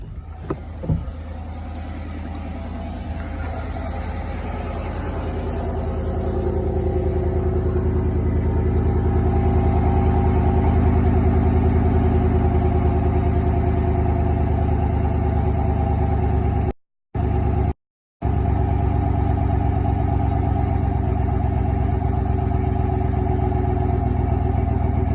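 A 2020 Chevy Silverado Trail Boss engine idles at about 1,000 RPM, heard from outside as a steady low rumble that holds even and loud throughout with no voices over it.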